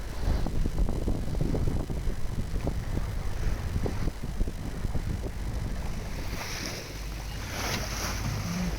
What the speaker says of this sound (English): The wind's picked up a little bit.